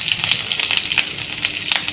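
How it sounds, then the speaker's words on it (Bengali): Steady crackling sizzle of onion and green chili frying in hot oil, close and continuous with small popping bursts. "পেঁয়াজ আর কাঁচামরিচটা হালকা ভাজবেন"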